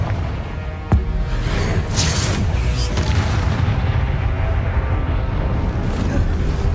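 Confringo spell explosions in Hogwarts Legacy: a sharp blast followed by dense, loud, continuous booming and rumble with whooshing bursts, steady throughout.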